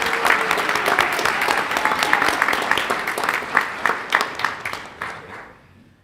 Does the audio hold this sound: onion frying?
no